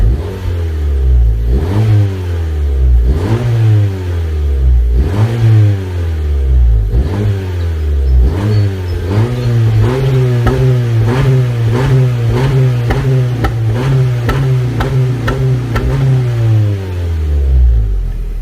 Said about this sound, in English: The third exhaust is from HKS.